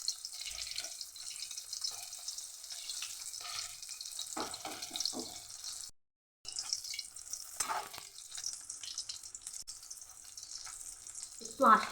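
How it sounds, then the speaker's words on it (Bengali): Lotte (Bombay duck) fish pieces in batter frying in oil over lowered heat, a steady close sizzle running throughout with a brief break and some stirring and clatter. "লোটে মাছের বাটার ফ্রাই তো, তাই একটু আঁচটা কমিয়ে আপনাকে ভাজতে হবে"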